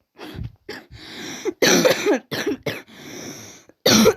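A run of harsh, loud coughs close to the mic, coming in irregular fits with brief pauses between them.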